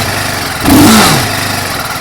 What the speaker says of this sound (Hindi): अब आपको इसका इंजन साउंड सुनवाता हूँ।